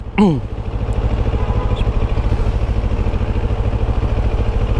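A CFMOTO CLX700 Heritage 700cc motorcycle in sport mode runs close by with a steady, throbbing engine rumble, and a brief voice is heard at the very start.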